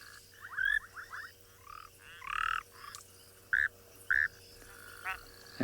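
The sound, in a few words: broad-banded grass frog croaking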